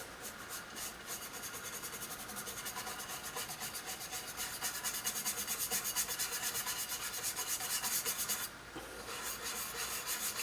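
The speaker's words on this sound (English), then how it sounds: "Apparently doesn't do much good to scrub with this naval jelly." Scrubbing white corrosion with naval jelly on a Cornell Dubilier BF-50 capacitor analyzer gives a rapid, steady back-and-forth rubbing rasp, close and continuous, with one brief break near the end and no talk.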